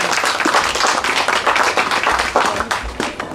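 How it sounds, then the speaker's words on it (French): An audience claps warmly to welcome a woman taking the stage as master of ceremonies at a band's single launch showcase, loud and close, with crisp sustained clapping throughout. "que je vous demande d'applaudir très chaleureusement s'il vous plaît"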